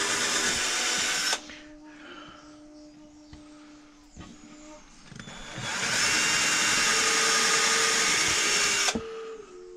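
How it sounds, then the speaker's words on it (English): Power drill boring straight down through a wooden block for a handmade drone flute, with two loud sustained drilling bursts, one at the start and a longer one near the end, separated by quieter handling noise. "And just drill perfectly straight and down."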